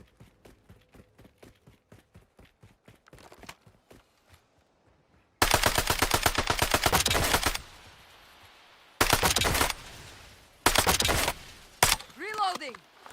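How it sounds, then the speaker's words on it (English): Video game gunfire: a quick run of light single shots, then loud sustained bursts of rapid automatic fire in several bursts, with a swooping effect at the end. "I'm taking fire."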